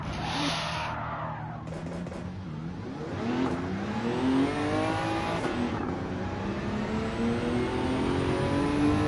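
Nissan Skyline R34 in Gran Turismo 7 accelerating hard, engine pitch climbing through several gear changes, loud and close, with no talk.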